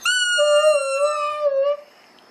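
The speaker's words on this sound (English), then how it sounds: "in all the years I've known you, Shelby, has a toy made you howl." A dog gives one long, clear, tonal howl close by, sustained for nearly two seconds with a slight waver before cutting off, set off by a toy.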